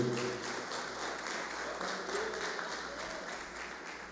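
Church congregation applauding during a Thursday prophetic service, steady moderate clapping filling the room throughout, heard from a distance with no talk over it.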